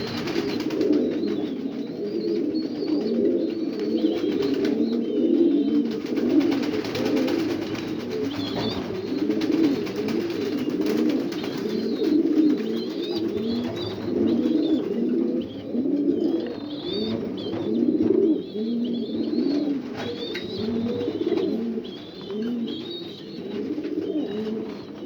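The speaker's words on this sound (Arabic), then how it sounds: "نبدا نتعامل مع الحمام، مع الزغاليل" Young pigeon squabs coo continuously in a dense, close, overlapping chorus of soft throaty warbles, with no talking.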